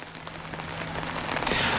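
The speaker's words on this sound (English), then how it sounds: "despite the rain" Steady rain pours onto surfaces outdoors near a softball field, a dense, continuous hiss that swells slightly toward the end, with no voices.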